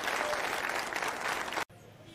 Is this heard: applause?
yes